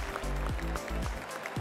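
A crowd in a golf video game applauds a drive on a course laid out beside an airport, with brief clapping under other game sounds.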